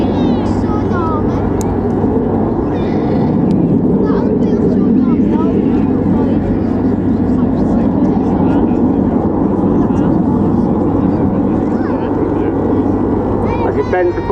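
Red Arrows jet formation flying low over the RAF Cosford airshow, a steady broad roar that holds for the whole stretch beneath an announcer's voice over the public address.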